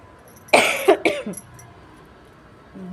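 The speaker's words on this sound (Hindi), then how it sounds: "थोड़ा थोड़ा खांसी आते" Two or three close, harsh coughs in quick succession, followed by quiet room noise.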